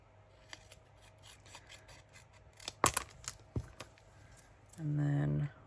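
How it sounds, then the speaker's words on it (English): Tim Holtz craft scissors cutting out UV resin charms, a cluster of crisp snips and rubbing rasps around the middle of the clip, close and fairly quiet, followed by a short buzzing hum at the end. "and I'm gonna use my Tim Holtz scissors"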